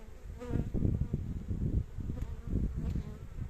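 A dense, steady buzzing of many honeybees close by at an apiary, droning continuously with slight swells in loudness.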